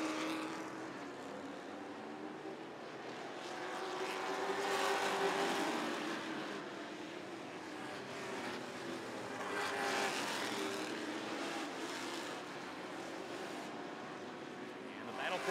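Sportsman race cars thunder down the backstretch at Rockford Speedway, a dense engine roar swelling and fading as the pack passes under a track announcer's commentary.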